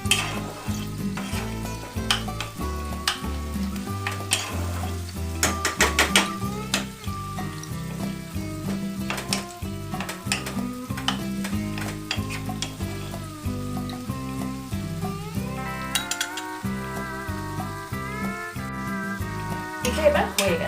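Red chutney for a South Indian recipe, stirred and sizzling in a lidded pan on a burner. The frying hiss and stirring run continuously beneath prominent background music.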